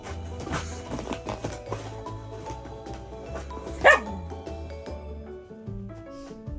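A rescue dog barks from inside a crate, sharp repeated barks and yips over steady background music, with one louder bark standing out partway through.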